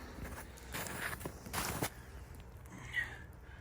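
Several crunchy footsteps on snow at an uneven walking pace in winter woods, close by, with a faint chirp near the end.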